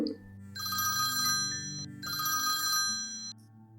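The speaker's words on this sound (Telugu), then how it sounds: "ఒకనొక రోజున మా సంస్థకు ఒక ఫోన్ కాల్ వచ్చింది" A telephone rings with an incoming call in two long electronic bursts separated by a short gap, loud and close, with no voices over it.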